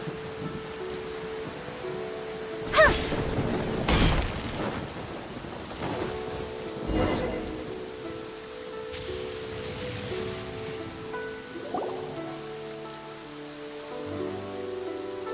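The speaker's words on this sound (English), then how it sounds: "Quite a downpour. Nothing will get done until it clears." A heavy rain downpour in the video game Genshin Impact falls as a steady hiss, broken by several sharp, loud thunder cracks and rumbling strikes spread across the scene, with music tones running underneath.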